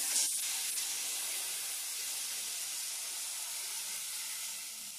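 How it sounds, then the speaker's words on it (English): Curry with coconut milk boils in a pot, giving a steady, even hiss and bubbling sizzle that holds at the same level throughout with no talking. "we're gonna allow this to boil for a bit"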